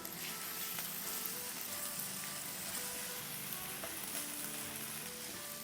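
Chicken stir-fry with tomato paste sizzles steadily in a pan while being stirred, a dense, even crackle with faint scraping, close and continuous with no voices.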